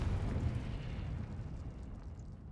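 A Confringo explosion spell detonating in a game: a deep, rolling blast that booms loudly at first and then slowly rumbles away over a couple of seconds, with nobody speaking.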